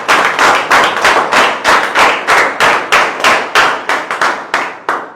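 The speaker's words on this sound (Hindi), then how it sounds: "एक बार जोरदार ताली बजा देगा।" Loud, steady clapping in a fast, even rhythm, around twenty sharp claps over five seconds, close and forceful, given as applause for a guest at a motivational talk on networking and earning, with no voices over it.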